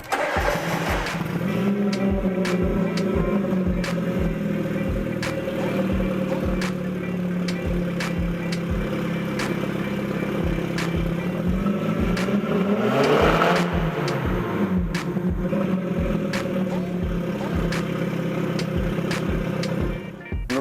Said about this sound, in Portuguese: vou mostrar para vocês aqui com o carro funcionando, vou até dar uma acelerada no carro